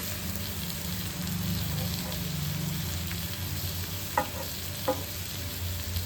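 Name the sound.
koramenu fish frying and being stirred in a pan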